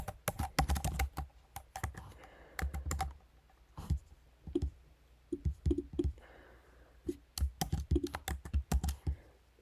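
Typing on a computer keyboard while building a Java program's user interface, with irregular bursts of close, crisp key clicks separated by short pauses, and no talking.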